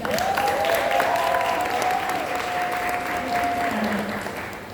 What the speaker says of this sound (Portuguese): E agora eu quero aquela salva de palmas bem forte.